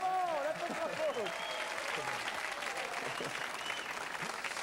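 A French TV studio audience for a driving-test quiz show applauds steadily, a dense continuous clapping with voices talking over it throughout.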